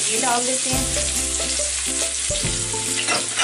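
Finely chopped onion goes into four tablespoons of hot oil for mutton mandi and sizzles loudly and steadily, close up. A voice speaks briefly over the frying.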